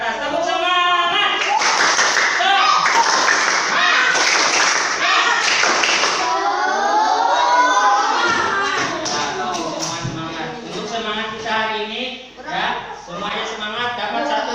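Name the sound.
children doing a rhythmic clapping chant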